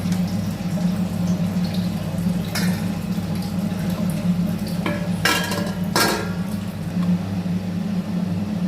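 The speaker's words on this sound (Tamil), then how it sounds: "குழம்பு கொதிச்சிருச்சு" A pot of small sankara fish curry simmers at a low steady bubble with a constant hum underneath, and a few sharp clinks of metal utensils against the pot come partway through, with no talking.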